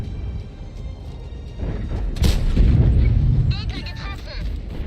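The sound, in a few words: artillery shell explosion in World of Tanks video game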